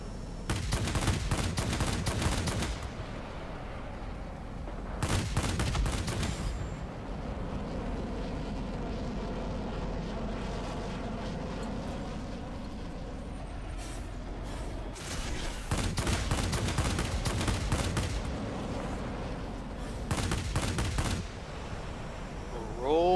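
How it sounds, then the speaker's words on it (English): In World of Warplanes, the machine guns of a Tachikawa Ki-162-III fighter fire several short bursts, separated by longer stretches of steady engine drone. "Little short bursts. Have to be patient with these guns."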